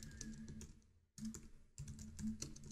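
Typing on a computer keyboard while writing JavaScript code, a steady run of soft close key clicks with a brief pause midway, no voice present.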